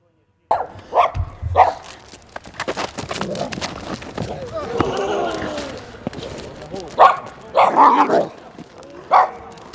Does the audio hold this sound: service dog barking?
yes